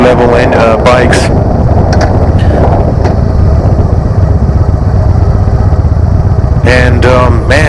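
A 2016 Victory Gunner motorcycle with its 106-cubic-inch, 1731cc engine rumbles loud and close, a steady deep drone that holds throughout with brief talk at the start and end.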